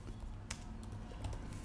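Light, quick keystrokes tap on a computer keyboard, faint and close, a short run of scattered clicks over quiet room noise.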